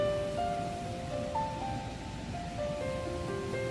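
The rain-swollen Pavana river, fed by dam releases, pours fast over a bridge near a riverside temple on a rainy morning, a steady broadband rush of water, fairly soft and continuous, with no voices.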